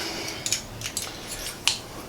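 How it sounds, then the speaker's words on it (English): A few crisp kitchen-scissor snips through a roasted chicken, close and fairly quiet, spaced irregularly with soft handling noise between them. "I just use my scissors to snip them"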